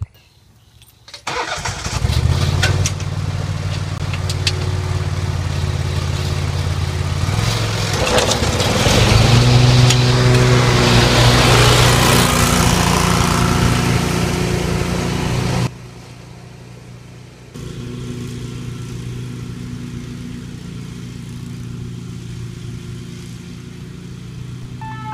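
A lawn mower engine starts up and runs loudly and steadily, rising in intensity midway, then drops off and continues at a lower level while mowing residential yards along a street.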